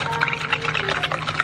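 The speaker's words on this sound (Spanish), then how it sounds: "Yo les voy a echar agua tibiecita." Warm water pours steadily into a bowl of powdered mix in a home kitchen, a brief close, continuous splashing and gurgling fill with no one speaking.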